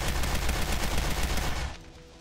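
Rapid gunfire in the video game Orange Moon, fired as fast as the button is clicked: a dense, loud burst of shots that cuts off abruptly, leaving quieter ambience.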